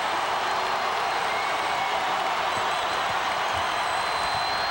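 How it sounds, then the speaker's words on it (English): A basketball arena crowd at a Kentucky vs South Carolina college game roars and cheers steadily, a loud, dense wash of voices with scattered clapping that holds for the whole stretch. "They want the crowd to get into it, and they do"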